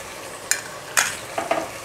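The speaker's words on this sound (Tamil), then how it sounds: "ஆனியன் வந்து ஃப்ரை ஆகிடுச்சுங்க. நம்ம தக்காளி ஆட் பண்ணிக்கலாம்." Onion with freshly added tomato and mint frying in a pan for a vegetarian fish-fry and ridge gourd pulav, heard as a few sharp stirring scrapes and spoon clatters over a quiet sizzle, with no talking.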